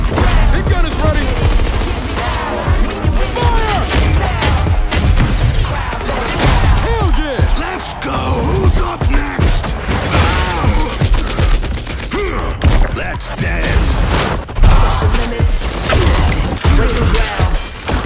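Suppressing fire in the shooter game Gears 5, loud rapid bursts of gunfire and impacts crashing together, with shouting voices mixed into the dense battle.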